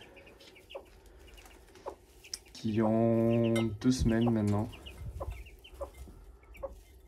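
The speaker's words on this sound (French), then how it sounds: "on a une poule coucou doré avec ses 4 poussins coucou dorés" A Coucou doré hen clucks in a short, loud tonal run amid soft scattered peeps from her four Coucou doré chicks, while a person speaks nearby.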